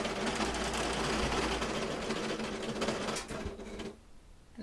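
Serger sewing machine running steadily as it stitches a back seam on pants, a close, loud continuous whirring hum that stops near the end, leaving quieter room tone.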